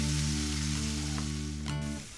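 Onions cook slowly over low heat on a stovetop, giving a steady, gentle sizzle that runs close and continuous over a low hum, then fades out near the end.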